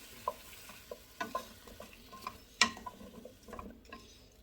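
Minced garlic being stirred in a hot frying pan, with a soft continuous sizzle and scattered clicks and scrapes of the utensil against the pan. Close and fairly quiet, with no talking.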